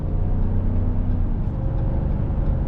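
A 2023 Ram 1500 Sport pickup with eTorque accelerates onto a highway, a steady, loud low engine drone and road rumble filling the cabin with no talk over it.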